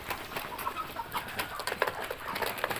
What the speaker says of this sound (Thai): เนี่ยสามตัวนี้นะครับเป็นไก่ 3 สายพันธุ์นะฮะ